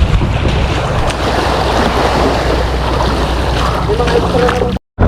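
Steady wash of wind and waves with a fishing boat engine's low rumble underneath, loud and continuous at sea, cutting out abruptly near the end.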